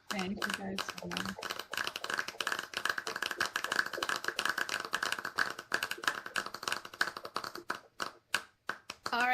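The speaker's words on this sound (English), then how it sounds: "let's give them all a big round of applause" A few people clap at the end of a university psychology student presentation at a virtual reality event, sparse and uneven, with talking over it.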